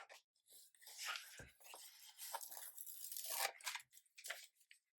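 A double box planner sticker being peeled from its sheet, heard as a close, crisp ripping and crinkling that comes in irregular bursts over a few seconds, with brief pauses in between.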